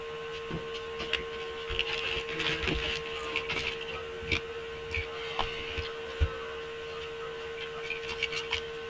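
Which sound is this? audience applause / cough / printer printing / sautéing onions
printer printing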